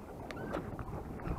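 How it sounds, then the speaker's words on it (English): Gusting wind buffets the microphone while a Helix pedal-drive kayak moves head-on into it, a continuous rushing noise with faint water sounds and no voices. "if you can hear the wind, like I'm going directly into the wind"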